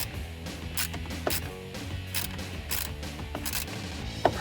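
Fitting tightened by hand with a ratcheting tool while installing an AFE Magnum FORCE Stage 2 cold air intake on a 2017-2020 Ford F150 3.5L EcoBoost, giving a steady run of close mechanical clicks and rattles with one sharper tick near the end.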